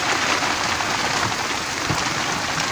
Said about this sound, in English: It's very hard rain here.